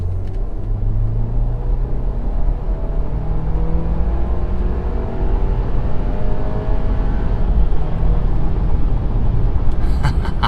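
A 2018 Audi Q5 with a dual-clutch gearbox accelerates hard, its engine note climbing steadily in a continuous rumbling whir heard from inside the cabin, with no one talking.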